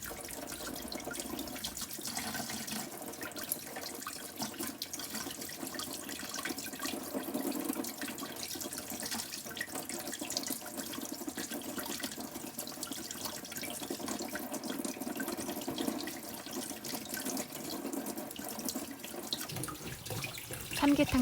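Running tap water pours steadily into a sink while raw abalone is scrubbed clean with a brush, a continuous splashing flow that holds at an even level throughout.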